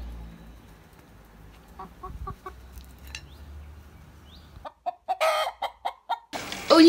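Pet hens cluck in short, spaced calls that grow louder and closer toward the end, with quiet rustling around them and no talking.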